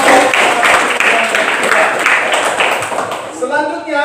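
A school class claps for a student group, brief scattered applause mixed with voices, fading out as someone starts speaking near the end.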